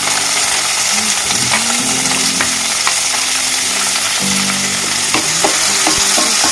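Chopped onion and tomato fry loudly in a pan for mixed dal, with a dense, close crackling sizzle and continuous scraping and knocking of a spoon as they are stirred.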